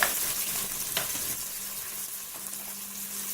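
Bacon lardons and onion frying in a Cookeo multicooker, a steady close hiss of sizzling fat with a faint low hum beneath and a few soft clicks, no voices.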